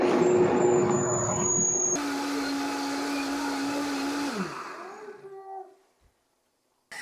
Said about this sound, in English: So now I'm gonna run it through my blender.